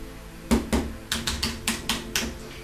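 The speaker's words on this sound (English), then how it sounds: "The mechanical key caps have a good amount of travel, but being a mechanical keyboard, the keys feel responsive and tactile with a lot of feedback." Keys on a Logitech G915 TKL mechanical keyboard are typed, giving about eight crisp, close clacks in an uneven rhythm over a quiet background; no one speaks.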